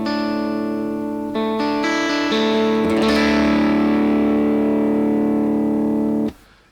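Worship electric guitar through a Line 6 Helix patch with all effects switched off, a sustained chord ringing loud and clear with a few strummed re-attacks before cutting off abruptly near the end.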